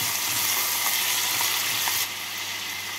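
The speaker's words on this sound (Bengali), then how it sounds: "দিচ্ছি আলু। আলুটা একটু নাড়াচাড়া করে নেব।" Potato pieces sizzling in hot oil in a pan while being stirred, a dense steady hiss that drops slightly in level partway through, with no talking.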